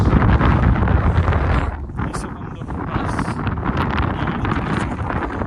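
Strong mountain wind in Mustang, Nepal, roars and buffets the microphone, loud and continuous, easing briefly in the middle before gusting again.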